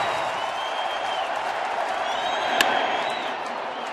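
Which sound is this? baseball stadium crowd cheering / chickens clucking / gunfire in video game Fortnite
baseball stadium crowd cheering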